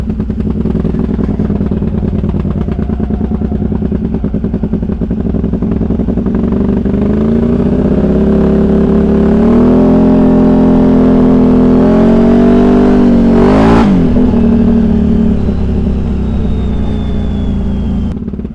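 A built Can-Am Outlander ATV engine revs steadily and loudly, rising in pitch around the middle and dipping briefly before settling back into a sustained, close, throaty drone with no voices.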